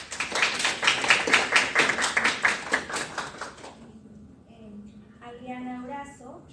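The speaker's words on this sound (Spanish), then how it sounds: "Recibámoslas con un cálido aplauso" Rhythmic clapping from a small audience welcoming speakers at a panel on women in mining, lasting a few seconds before it fades and a voice begins talking.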